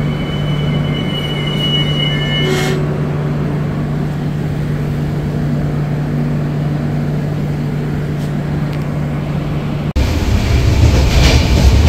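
Tourist Express train rumbling across the Torsa river bridge, a steady loud rolling rattle with a sustained low hum that shifts into a harsher, busier clatter near the end.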